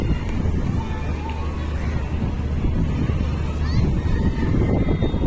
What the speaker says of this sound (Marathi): वादळी वाऱ्यासकट आपल्या मुंबईमध्ये पावसाचे आगमन झाले